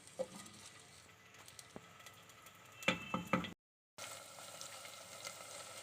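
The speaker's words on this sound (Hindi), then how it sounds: "प्याज को हम लाइट सा गोल्डन करेंगे।" Onions frying in a clay pot for dal mash, a soft steady sizzle with a few louder clattering stirs near the middle and a brief cut to silence before the sizzle resumes.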